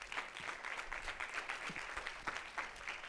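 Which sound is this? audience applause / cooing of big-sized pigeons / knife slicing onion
audience applause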